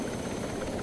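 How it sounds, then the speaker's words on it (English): A helicopter engine runs in the Stormworks video game, a steady low droning hum that stays at an even, moderate level through the brief moment, with no talking. "We might be able to do the mission here with this chopper."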